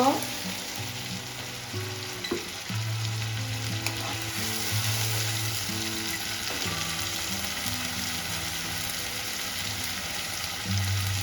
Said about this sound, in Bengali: আদা রসুনটা ভাজা ভাজা হয়ে গেছে এখানে দুটো টমেটো পেস্ট করে নিয়েছি দিয়ে দেব